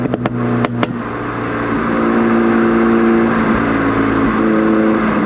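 A Mini Cooper S F55 on new sticky tires takes a corner, its engine droning steadily and building in load through the turn, with a few sharp knocks early on and no talk.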